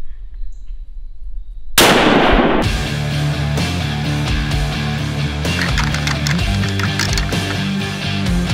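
A single loud hunting-rifle shot at a deer cracks out of near silence during a rut hunt, followed by ringing, sustained tonal sound that continues to the end.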